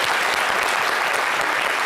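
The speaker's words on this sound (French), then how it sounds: "Très bien, merci d'applaudir Mécène, c'est très bien." A television studio audience applauds, a dense steady wash of clapping that fills the short moment, close and fairly loud with no talk over it.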